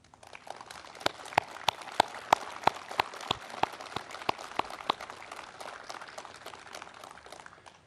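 Scattered applause from the audience at the 101st anniversary ceremony of the March 1st Independence Movement, sharp distinct claps at first, then thinning to faint, sparse taps.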